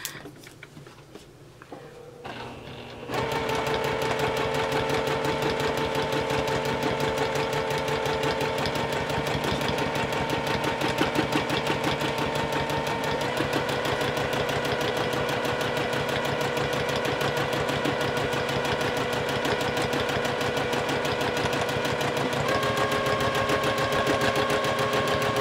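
A home sewing machine quilts on clear vinyl, its needle running in a fast, steady mechanical patter for over twenty seconds after a quiet start.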